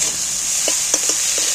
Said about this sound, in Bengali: দেখো পোস্তটা ভাজা হয়ে গেছে।